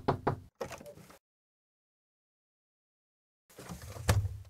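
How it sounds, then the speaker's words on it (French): Knocks on a door, two quick raps at the start and another burst shortly after, then silence before a louder thud-like rattle near the end, close and clear with no voices. "l'épicier a frappé à la porte."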